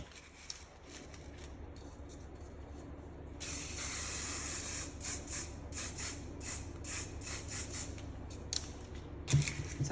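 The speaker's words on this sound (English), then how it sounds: "And then spray." An aerosol can of paint sprays onto an artwork of a lilac-breasted roller in a series of short hissing bursts, loud and close, after a quieter stretch of faint handling noise.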